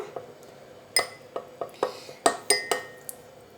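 Spoon stirring milk and Nutella in a glass, a string of sharp clinks and scrapes against the glass in an uneven rhythm, close and clear with no talking.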